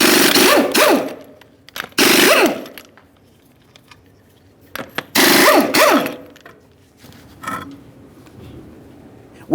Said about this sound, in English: start removing each of our 5 21mm lug nuts and then the wheel